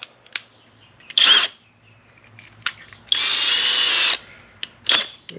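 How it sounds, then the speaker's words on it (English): A power drill whirs in two short bursts, one brief and one about a second long, with quiet clicks and handling noises between them. "Then I'm gonna grab my drill."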